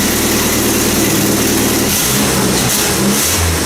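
A Jeep 2.5 liter four-cylinder engine, running with only a catalytic converter for an exhaust, idles with a loud, steady, low drone close up, with a slight rev in the middle.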